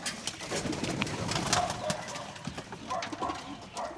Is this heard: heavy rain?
no